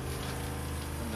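A 12-volt pump pushes water through the sink plumbing of a mobile wood-fired pizza oven, making a steady, close, low mechanical hum with a watery rush that holds level from start to finish.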